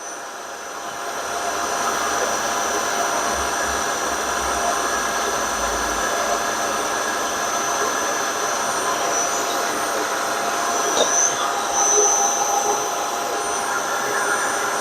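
A machine steadily takes the lightest cut, about 0.1 mm, on a piston rod gland, giving a constant, even mechanical drone with a faint high whine that runs unbroken throughout, with no voices.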